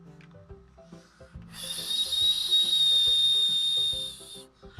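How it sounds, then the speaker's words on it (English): A sustained breathy, high whistle from blowing across something, swelling for a couple of seconds over soft background music, close and fairly loud, then cutting off. "Why is it that when I blow on something, it whistles?"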